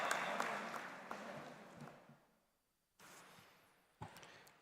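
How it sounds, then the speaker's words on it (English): An audience at a student parliament event applauds to welcome a speaker, clapping loud at first and fading out to near silence, then a second burst of clapping starts up and continues to the end. "Please put your hands together and welcome with a big round of applause"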